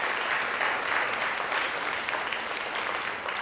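A dinner keynote audience gives the speakers a round of applause, a dense, even wash of many hands clapping at moderate distance, steady throughout with no voices rising above it.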